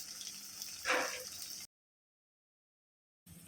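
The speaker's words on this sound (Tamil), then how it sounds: "பயிரில் இருக்க தண்ணியை சேர்த்துக்கலாம்." Cooking water from boiled lima beans is poured into a pan of sautéed onion, ginger garlic paste and tomato, making a short, close splash and sizzle before cutting abruptly to silence.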